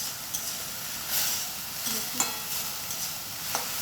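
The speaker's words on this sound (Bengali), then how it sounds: "বেশি না, 5 মিনিট নাড়লেই হয়ে যাবে।" Manchurian frying in a pan with dried chilli and coconut on top, a steady hiss of sizzling oil with a few scraping stirs, close and moderately loud, no speech.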